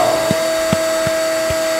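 A vacuum machine used for making napier grass silage runs with a steady loud hum and a constant tone, with four soft low thumps spaced evenly through it.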